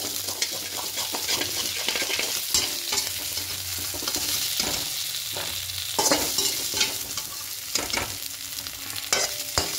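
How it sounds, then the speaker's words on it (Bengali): Boiled, cut potatoes frying in hot oil with a constant sizzle, broken by repeated scraping and stirring strokes in the pan over about ten seconds, close up and without talk. "সেদ্ধ করে কেটে রাখা আলুটা দিয়ে দেব। লাল করে ভেজে ভেজে তুলে নেব।"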